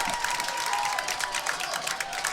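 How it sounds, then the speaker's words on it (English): A college football crowd at a Tufts Jumbos versus Hamilton Continentals game cheers and applauds from a distance, a steady moderate roar of clapping and voices. "And the crowd gets on their feet."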